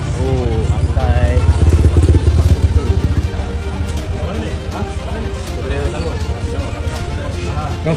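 A motorcycle engine revs and passes close by in a busy wholesale market, loud at first and then easing off, while several people talk over it amid background clatter.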